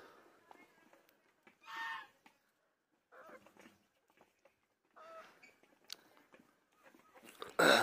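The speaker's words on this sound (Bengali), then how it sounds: "এই যে মুরগিটা, দেশি মুরগি" A desi hen gives a few short, scattered clucks close by in a quiet farmyard, separated by pauses, with faint background noises between.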